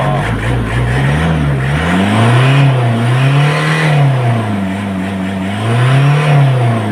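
Semi-electronic engine of a low-power Nissan Vanette van revving steadily at close range, its loud drone rising and falling in slow repeated swells.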